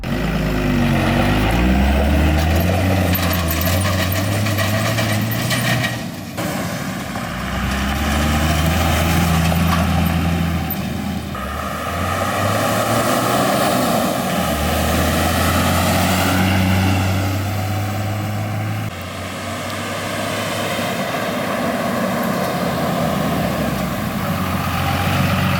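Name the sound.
1999 24-valve Cummins diesel truck driving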